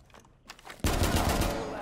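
A 1911 pistol fires in the shooter game Rainbow Six Siege: after a quiet, murmuring start, a loud, sudden burst of rapid, closely spaced gunshots cuts in and carries on to the end.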